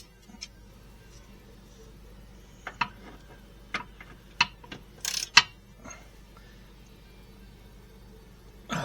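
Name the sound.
ratchet wrench loosening a control arm bolt on a Subaru Outback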